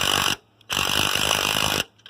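An impact wrench hammers on lug studs of a race kart in two loud, close bursts, a short one followed by a brief pause and then a longer rattling run of about a second, with quiet between.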